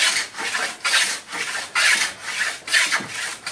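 A sharp blade shaves the wooden sides of a flamenco guitar in long, even rasping strokes, about seven passes in a steady rhythm, close and clear with no talk.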